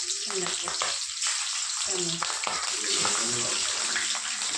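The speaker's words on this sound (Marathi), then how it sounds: "सगळी तळल्यानंतर मिरची अशी तळते आता बघू शकता" Steady crackling sizzle of green chillies frying in hot oil, close and continuous, with a voice talking intermittently underneath.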